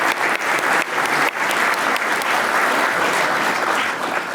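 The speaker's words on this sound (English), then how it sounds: "Do a little clap for them, a little clap for the sponsors" Steady, dense audience applause fills a lecture hall after the sponsors of an engineering medal and award event are thanked, with no break throughout.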